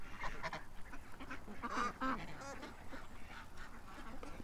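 A small duck quacks nearby in a few short, separate bursts, with other waterfowl calling faintly in the background.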